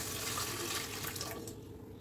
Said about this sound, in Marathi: आता आपल्याला त्याच्यात एक तांब्या पाणी घालायचं